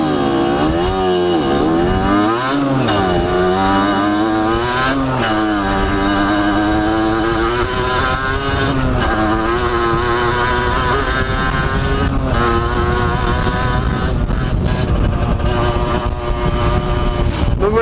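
A rebuilt two-stroke motorbike engine, with new piston, con rod bearings and seals, revs loudly during break-in, its buzzy pitch rising and falling over a steady idle, with brief drops between revs.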